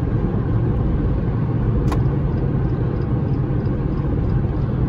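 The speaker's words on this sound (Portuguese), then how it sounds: "Vamos fazer mais uma arrancada ali." A 2022 Jeep Compass Longitude T350 pulls away hard from a standstill, its engine giving a steady loud low rumble heard from inside the cabin, with a brief click partway through and no talking.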